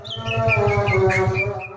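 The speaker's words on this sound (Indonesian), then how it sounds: "Cucak Ijo Banyuwangi" A Cucak Ijo Banyuwangi green leafbird sings a bright run of whistled phrases over a steady low pulsing hum.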